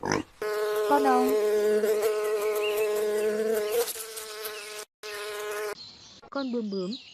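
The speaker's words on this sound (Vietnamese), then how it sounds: "Con ong." A bee buzzes in a loud, close, sustained drone that holds steady for several seconds, breaks off briefly, then returns with shorter wavering buzzes.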